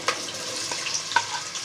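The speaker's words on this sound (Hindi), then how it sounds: "3/4 कप तेल लिया है मैंने, और उसमें एक बड़े साइज़ की प्याज ऐड कर देंगे" A large onion fries in about three-quarters of a cup of hot oil, giving a close, steady sizzle with a couple of brief clinks or stirring ticks over the bubbling.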